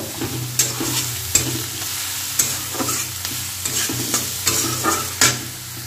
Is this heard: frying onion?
yes